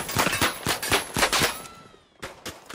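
Gunfire in the shooter game The Finals, several sharp shots in a fast, uneven burst, then a brief lull before a few more cracks, with nobody talking over it.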